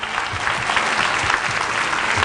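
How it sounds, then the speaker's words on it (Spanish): Steady applause from a television studio audience, dense and continuous clapping that stays fairly loud throughout with no talk over it. "Fuerte el aplauso para vosotros"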